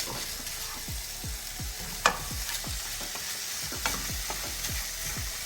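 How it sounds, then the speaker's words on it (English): Italian sausage sautés in a pan with a soft, steady sizzle, broken by repeated scraping stirs and flips of a utensil against the pan, fairly quiet and close, with no talking. "Just sauteing that meat."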